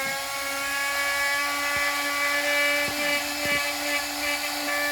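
A handheld rotary tool sands a slant-cut MAK-90 rifle stock with a continuous high, buzzing whine, close and steady, with a few brief scraping touches of the bit against the stock.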